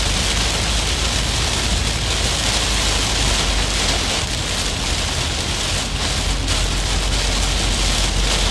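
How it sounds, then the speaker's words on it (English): Rain pours during a thunderstorm in Missouri, a loud, dense, steady hiss of heavy rainfall filling the whole stretch without a break. "here comes our rain"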